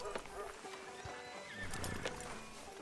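A horse in the Red Dead Redemption 2 game whinnies amid clip-clopping hooves and a busy outdoor soundscape, heard close and fairly loud, with voices talking.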